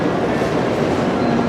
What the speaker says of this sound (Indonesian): Nah, kereta ini ke Osaka